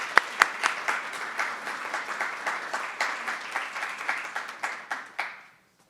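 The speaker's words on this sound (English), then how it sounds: "So a huge round of applause" A lecture audience at a university event breaks into applause, dense, even clapping from many hands that holds steady for several seconds and then cuts off abruptly, with no talking over it.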